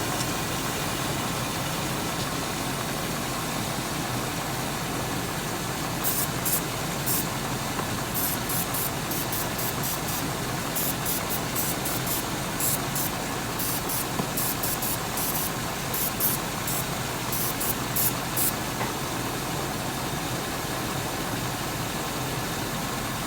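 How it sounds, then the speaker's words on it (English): Starting fluid sprayed into the throttle body of an idling 1997 Chevrolet Suburban with lean codes: a steady engine idle under repeated short hissing spray bursts, close and moderately loud, no talk. "Now if I come up and I just spray my throttle body,"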